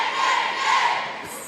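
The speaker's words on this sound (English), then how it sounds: "You hear that choreographed cheering in the background from the folks" Crowd of fans at a high school basketball game cheering in unison in the background, a steady broad roar that swells and then fades over a second and a half.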